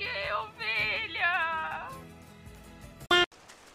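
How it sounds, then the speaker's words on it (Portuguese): A sheep in Final Fantasy XIV bleats twice in quick succession, a wavering nasal cry up close, followed by a short sharp burst and then near quiet. "Ai, que ovelha."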